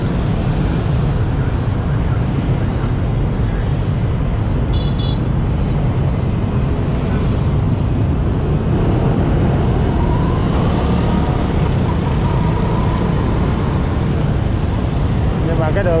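Dense, constant road traffic at the Hang Xanh intersection flyover in Saigon, a loud unbroken roar of engines with passing vehicles and faint horn-like tones rising above it.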